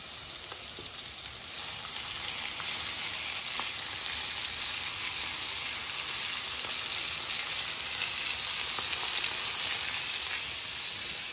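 Prawns sear in a salted frying pan with a dense, steady sizzle that runs throughout at close range, growing a bit fuller after the first couple of seconds, with faint crackles and no talking.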